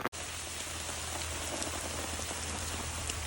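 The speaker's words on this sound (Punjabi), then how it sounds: "ਇੱਕੇ ਵਾਰੀ ਮੀਂਹ ਆ ਗਿਆ ਤੇਜ਼" Heavy rain falls on a campsite during a windy storm, a steady, dense hiss of drops drumming nearby without pause and no voices.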